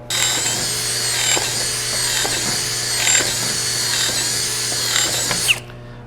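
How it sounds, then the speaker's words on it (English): A Sundpey brushless cordless drill whirs steadily while its chuck ratcheting mechanism gives repeated rapid clicks, close and continuous, ending in a sharp stop. "I like hearing that ratcheting mechanism on there"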